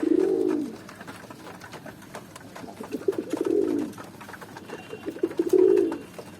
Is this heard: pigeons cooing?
yes